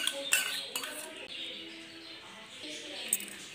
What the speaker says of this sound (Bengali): দইটা দেওয়ার পর এবারে খুব ভালো করে এটাকে আগে আমি মিশিয়ে নেব।